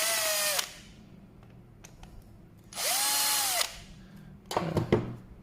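A power tool whirs in three short bursts, removing an L bolt from an ESP99HP Multipro electric spray gun, each burst a loud, high-pitched spin that winds up and down, with quiet clicks between.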